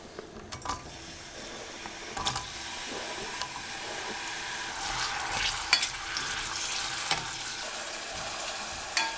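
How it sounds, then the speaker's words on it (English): Onions crackle in hot sunflower oil, a steady close hiss that builds slightly over time, dotted with small pops and a few clattering knocks from the pan. "We're going to let the onions fry until they're just cooked through."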